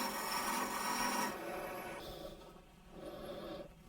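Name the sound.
turning a wooden box on a wood lathe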